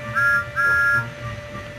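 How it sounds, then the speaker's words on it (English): Two short tonal whistle blasts of Thomas the Tank Engine's steam whistle, from a Thomas and Friends video game, sound in quick succession over a steady background hum. "Percy has Thomas's whistle."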